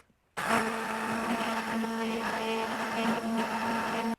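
Immersion blender whipping homemade mayonnaise, whirring steadily at close range, a constant motor hum with a faint churning texture.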